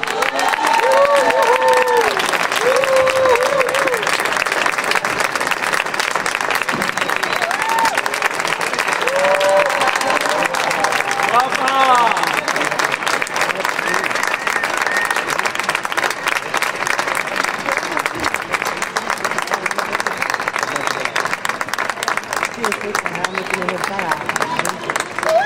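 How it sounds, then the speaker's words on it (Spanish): A theatre audience gives a performer sustained, dense applause with some cheering. The clapping stays loud and continuous throughout, and voices carry over it for most of the stretch. "quiero que le deis un grandísimo aplauso"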